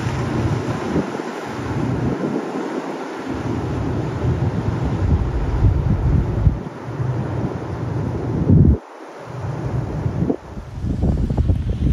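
Strong wind buffets the microphone in continuous roaring gusts, loud and close, with brief lulls between blasts.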